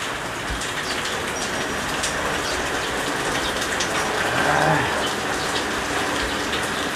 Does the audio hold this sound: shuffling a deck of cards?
no